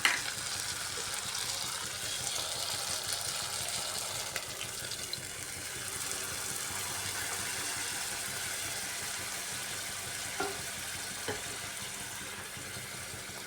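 Spiced water, made from ground spice paste mixed in a bowl, cooks in a pan of pointed gourd curry, giving a steady, fairly loud sizzle and bubble that holds evenly throughout, with a couple of faint utensil clicks near the end.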